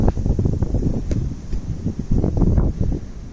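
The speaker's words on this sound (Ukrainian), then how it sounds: "Ох, і вітер" Wind gusting through a garden of young trees, a steady low rushing roar with buffeting against the microphone, fluctuating in strength throughout.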